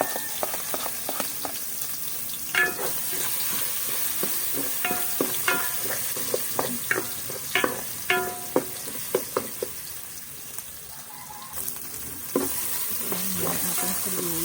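Garlic sautéing in a pan for chicken mechado crackles and sizzles steadily up close, with repeated sharp scraping knocks from stirring, loud and continuous and with no talking.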